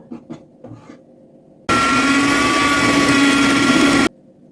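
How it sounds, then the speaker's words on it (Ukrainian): After a few soft taps, an electric hand mixer on low speed starts up beating eggs and starter dough, running at a steady, even whir for a couple of seconds before cutting off. "Беру міксер і добре потихеньку, на маленькій швидкості, все добре зіб'ю."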